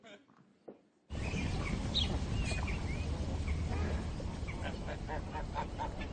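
Ducks quacking and calling in the Brière marshes of Loire-Atlantique, a busy chorus of honks and chirps that starts abruptly after a short quiet opening and continues steadily at moderate distance.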